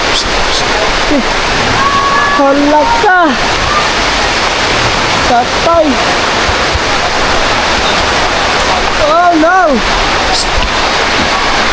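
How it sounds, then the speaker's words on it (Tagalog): Heavy rain pours down in a loud, unbroken roar that stays constant throughout, while people speak and exclaim briefly over it. "At ayan, bigla naman lumakas ang ulan."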